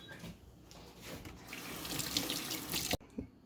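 Kitchen faucet running for hand washing, a steady close stream of water into a sink that swells louder, then abruptly cuts off near the end with a few faint drips.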